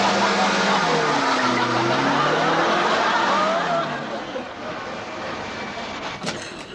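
A car pulling away under a new driver's fierce clutch, a loud engine roar with rising and falling pitch that eases off partway through, mixed with muffled voices.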